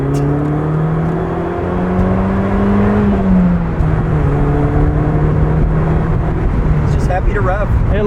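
A 1996 BMW Z3 with a 1.9-liter engine revs from the driver's seat, its tone climbing and then settling into a steady drone, close and loud, while a person talks over it.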